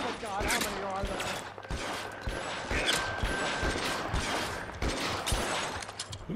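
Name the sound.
gunfire in the video game L.A. Noire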